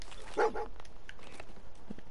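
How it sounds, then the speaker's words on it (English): In the Fallout 4 video game, the dog companion Dog Meat gives a short, close bark followed by softer yips and shuffling steps over quiet background ambience. "I got my own dog"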